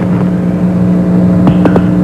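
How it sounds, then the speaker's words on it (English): Space Shuttle Discovery's rocket engines roar during launch as a loud, steady, continuous rumble with no speech over it. "Americans return to space as Discovery clears the tower."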